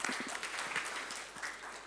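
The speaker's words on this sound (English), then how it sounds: "let's give them a round of applause real quick" Steady applause from an audience at an open infrastructure conference, a soft, continuous patter of many hands clapping heard from some distance.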